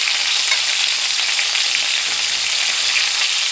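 Pork chops browning in a hot frying pan give off a steady, close, even sizzle and crackle of frying fat, with no talking.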